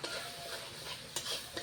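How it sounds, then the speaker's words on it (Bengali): Fish fries in a little oil in a pan, a faint soft sizzle with a couple of brief clinks of a utensil against the pan, no voices. "মাছটাকে, খালি মাত্র তেলের মধ্যে এই দুই পিঠে খালি কিছু ভাজে নিচ্ছি"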